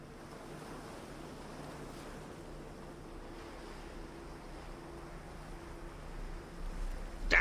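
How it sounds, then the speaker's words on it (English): Surf waves wash steadily onto a shore in the ambience of a SpongeBob-themed horror video game, a constant broad roar with wind-like hiss that swells louder near the end, with no voices. "the audio for underwater is not the sound of water crashing onto a shore, that is the sound of surface water"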